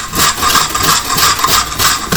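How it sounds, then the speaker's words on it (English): Jaggery being grated from a large bulk block for a ragi cake recipe, a steady rasping scrape that repeats in quick strokes, close and loud, with no talk. "I'm just grating it to add it to the recipe"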